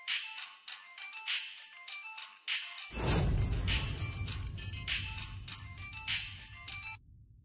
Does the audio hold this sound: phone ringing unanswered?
yes